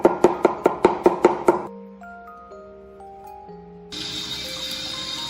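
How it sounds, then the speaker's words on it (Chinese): A kitchen knife chops garlic into mince on a cutting board in about seven sharp, evenly spaced knocks, close and loud, then stops as soft chiming tones and a steady hiss take over. "再剁个蒜蓉"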